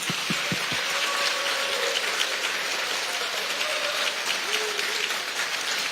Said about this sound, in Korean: 이재명 대통령의 당선을 축하하는 마음을 담아 큰 박수